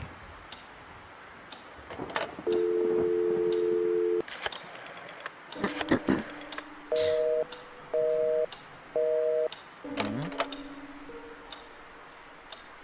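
Telephone busy signal from the video game Scratches: a steady tone, then three evenly spaced beeps, scattered clicks and a final lower tone, all close and clear with no speech.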